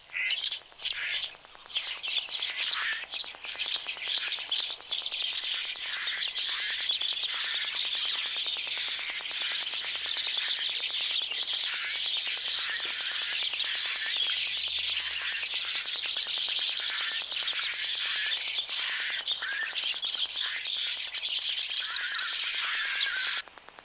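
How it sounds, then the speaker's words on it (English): A large flock of birds calls outdoors in nature, a dense, continuous chorus of overlapping chirps and tweets that holds steadily at a loud level throughout. "Alright, this bird, I would like to know what we call them in Afrikaans."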